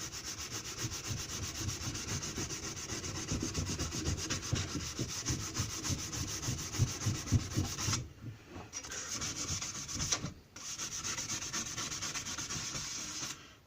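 Axe head for softwood being ground with fairly aggressive abrasion, a steady close rubbing and scraping rasp that runs continuously, pausing briefly twice before resuming.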